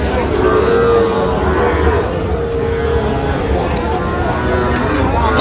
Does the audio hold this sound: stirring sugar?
no